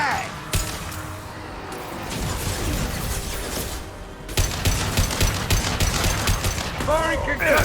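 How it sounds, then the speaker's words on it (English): A concussive shot fired in the video game Mass Effect 2, with rapid gunfire bursts, crashes and mechanical clatter over several seconds amid a dense, chaotic battle soundscape. "Firing concussive shot."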